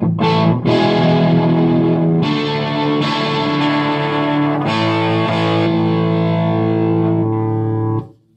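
Distorted electric guitar chords ring out loud through a Sundown amplifier, played on a Wilson Rose Custom Shop guitar, sustained strums changing every couple of seconds before cutting off at the end.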